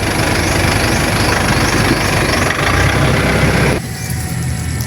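A motorcycle engine idles close by, a loud, steady, rumbling drone that holds evenly for several seconds before easing slightly near the end, with no voices over it.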